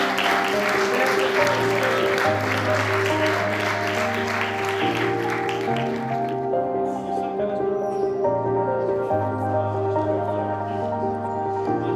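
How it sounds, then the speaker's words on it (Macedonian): Audience applause at a forum theatre performance, a broad clapping wash in the first half that thins out, with steady tonal music or sustained tones running underneath throughout. "Еден голем аплауз."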